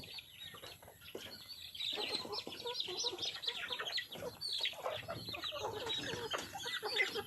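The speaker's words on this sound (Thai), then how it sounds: "ป้าก็ให้อาหารน้องไก่" Several chickens cluck and chatter continuously at close range while being fed outdoors, a busy overlapping flock sound that grows slightly louder and stays steady throughout.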